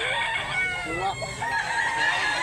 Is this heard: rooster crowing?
yes